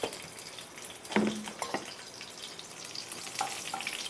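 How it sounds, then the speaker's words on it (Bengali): Nigella seeds and four green chillies crackle in hot oil in a kadai, a soft, steady sizzle with a sharper spit and clink near the start and scattered pops throughout, close and fairly quiet. "কড়াইয়ের তেল গরম হয়ে গেছে, কড়াইতে আমি দিয়ে দিচ্ছি কালো জিরে, দিয়ে দেবো 4টে কাঁচা লঙ্কা"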